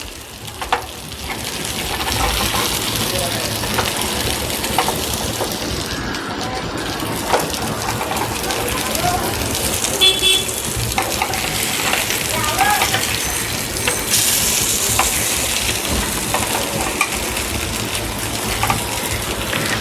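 Karli fish frying in oil in a pan, a continuous crackling sizzle with scattered pops and a brief clatter of turning, fairly loud and close, with faint talking at times.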